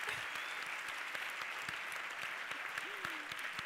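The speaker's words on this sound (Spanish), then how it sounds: "Se merece un mega aplauso," Audience applause at a FameLab science-communication semifinal in Barcelona, steady dense clapping from a crowd, moderately distant and faint, with a voice briefly audible under it.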